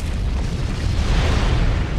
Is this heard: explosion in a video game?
yes